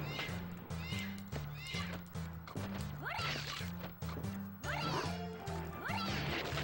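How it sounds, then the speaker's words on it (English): Eggs being smashed open in the Tomba! video game, with repeated cracking and breaking effects over a steady low rhythmic game music loop and sweeping chirpy sound effects. "The eggs, what I'm doing with them is I'm breaking them to release a magic spell cast by the evil pigs."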